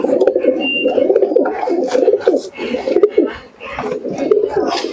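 Mayna Jack pigeons, black Teddy-type birds, cooing in a loft with chicks, a continuous rolling murmur of low coos close up, with some background voices mixed in.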